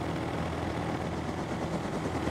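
A helicopter engine in the survival game Rust drones close and loud, a steady dense roar with faint rotor pulsing and no pauses.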